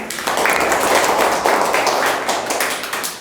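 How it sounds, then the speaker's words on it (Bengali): A group of children claps hands loudly together in a classroom, producing a dense, steady burst of applause for about three seconds. "সবাই জোরে হাতে তালি দিয়ে"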